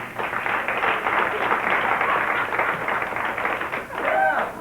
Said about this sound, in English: Applaud if you've seen Real People.